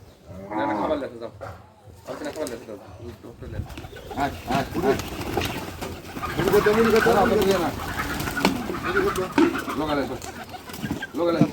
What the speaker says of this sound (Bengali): একটি বাড়িতে কবুতর চাষ করা হচ্ছে